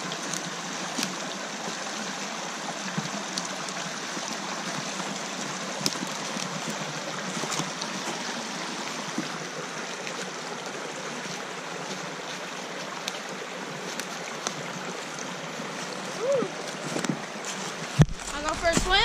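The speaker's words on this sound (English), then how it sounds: "I'm pretty sure it's flowing straight into Lake Dean." A stream flowing under a road into a lake in winter, making a steady, close rushing wash of water that holds evenly throughout, with someone talking over it and a handling knock near the end.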